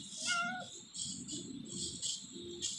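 Meows from a cat character in a video game, a short high meow at the start followed by several softer cat calls, with a low murmur of voices running underneath.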